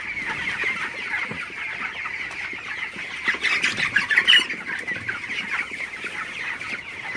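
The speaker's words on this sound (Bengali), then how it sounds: "আপনারা দেখতে পাচ্ছেন আমার ব্রয়লার মুরগিগুলো মাশাআল্লাহ খুবই ভালো আছে" Broiler chickens in a poultry shed cluck and squawk steadily, a dense chorus of many birds close by with a louder burst of squawking midway and no talking.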